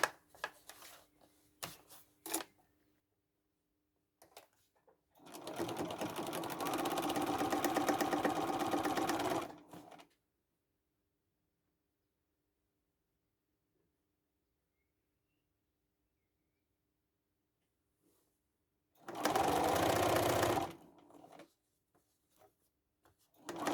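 A sewing machine stitching a red velvet tote bag runs in two bursts, a longer steady whir of about four seconds, then a shorter one, with quiet handling clicks and pauses between.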